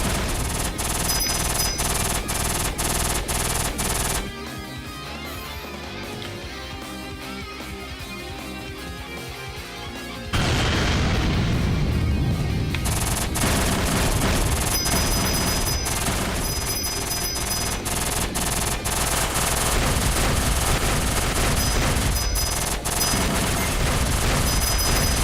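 Spread weapon gunfire in the shoot-'em-up Caladrius Blaze on Nintendo Switch, a rapid continuous stream of shots over game music, dropping quieter for a stretch before resuming loud and dense.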